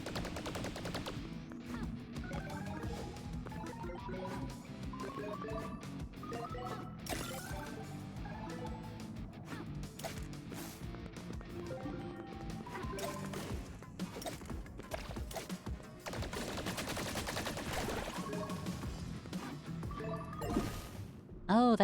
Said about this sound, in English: It's a different pose when she fires the gun.